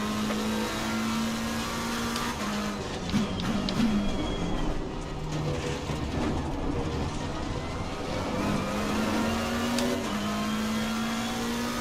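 A race car engine roars steadily in Assetto Corsa Competizione at Imola, loud and continuous, with gear shifts and shifting pitch as the car brakes and accelerates.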